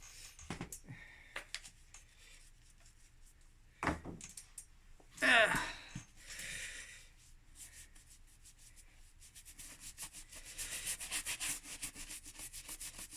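A brush rubbing and scrubbing over boots to shine them, made of uneven close bursts of scratchy strokes with a short louder scuff in the middle and faster brushing toward the end; fairly quiet.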